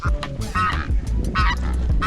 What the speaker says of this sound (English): Cape Barren geese.